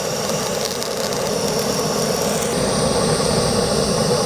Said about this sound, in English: I'm going to use my blower to really push the temps on this